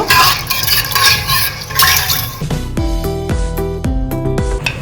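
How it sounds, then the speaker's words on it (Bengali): Water pours and splashes into a pressure cooker holding boiled peas for chicken ghugni, loud and close, then a metal spoon stirs and knocks against the pot in ringing, rhythmic strokes. "জল দিয়ে দেব, লবণ দেব, হলুদ দিয়ে দেব, ভালো করে মিশিয়ে দেব"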